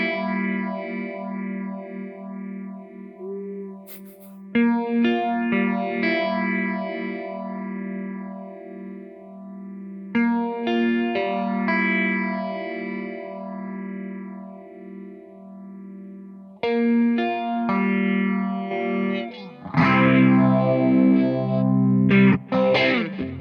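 A clean Fender Stratocaster picks slow arpeggiated notes through an Echoplex, ringing out with repeating echoes, phrases separated by brief pauses, building to a denser strummed passage.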